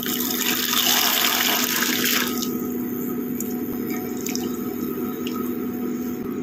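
Green peas tipped into a pot of nearly boiling water, giving a loud rushing, splashing pour for about two seconds that settles into a steady low bubbling hiss with faint drips.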